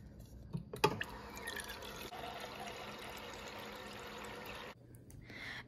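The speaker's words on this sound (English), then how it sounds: "we can come over and get a nice cup of water" Water runs steadily into a cup for several seconds at close range, preceded by a few sharp clinks and ending with an abrupt stop.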